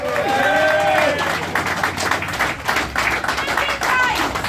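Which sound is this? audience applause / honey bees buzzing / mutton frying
audience applause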